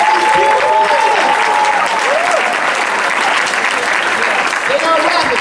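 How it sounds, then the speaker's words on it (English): Loud, sustained applause from a pageant audience honoring the contestants, steady clapping filling the room with some crowd cheering mixed in. "can I get everyone to clap it up one more time for all these beautiful ladies?"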